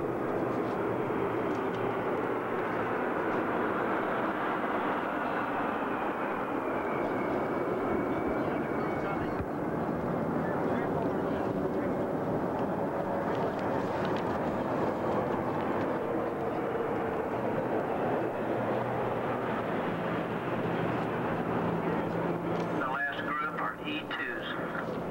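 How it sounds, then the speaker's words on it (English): Military jets of the Thunderbirds and Blue Angels making a flyover during the Liberty Weekend celebrations in New York City, July 4, 1986, give a steady broad roar that persists throughout the clip without breaks. "part of the flyover conducted by the French, the Thunderbirds from the U.S."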